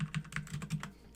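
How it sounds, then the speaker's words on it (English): Quick, light keystrokes on a computer keyboard, a short burst of about half a dozen soft clicks close by in a quiet room. "type in the IP address here"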